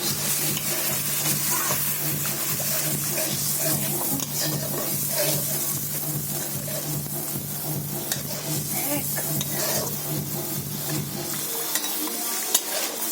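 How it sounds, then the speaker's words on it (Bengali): Water poured into a fried masala curry for a rupchanda fish dish, producing a loud, continuous sizzling hiss with scraping spoon stirring throughout, close by and without talk. "তো জল দিয়ে দিচ্ছি তরকারির মধ্যে"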